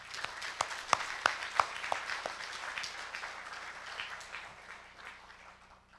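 An audience at an international forum on Korean unification gives a round of applause, a few sharp distinct claps standing out early before the clapping thins and fades.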